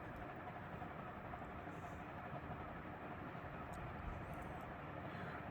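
Dayton 56-inch industrial ceiling fan on its high setting, a steady, even whoosh of broadband air noise that holds constant from start to finish with no pauses.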